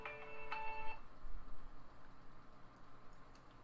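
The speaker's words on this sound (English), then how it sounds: "That's my phone ringing." A mobile phone rings in a quiet room, giving a short electronic ringtone burst of about a second that then stops, followed by faint ticking and a low background hum.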